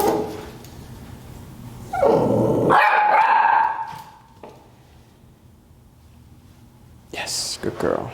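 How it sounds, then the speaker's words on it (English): A puppy barks several times during a food-reward training session, the sharp yips loud and close, with a trainer's calm voice speaking before and after the barking. "So I'm not gonna reward for the barking either."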